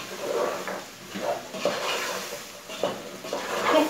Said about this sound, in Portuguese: Vou dar uma boa refogada aqui agora, ó, de uns 2 minutos.